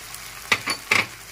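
Spice paste with coriander, Kashmiri chilli and turmeric powders frying for chicken kosha, with a quiet sizzle under three short scraping strokes of a spoon moving through the pan.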